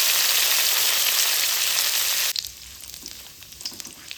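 Cashews and raisins drop into hot ghee with fried whole spices for Jagannath's Kanika bhog, a loud dense sizzle that suddenly drops to a softer crackling fry with scattered pops.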